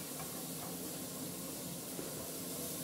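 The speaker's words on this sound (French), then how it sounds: "je les fais revenir légèrement" Onions sautéing gently in a cast-iron cocotte, a steady, faint, even sizzle and hiss that runs without a break.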